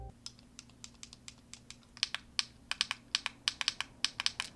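Rapid, sharp clicks from modded clicky Game Boy buttons in irregular bursts, loud and close, over a faint steady hum.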